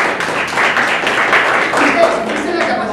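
Small group applauding a colleague at a municipal training session in Trujillo, close, brisk clapping lasting a few seconds with voices mixed in.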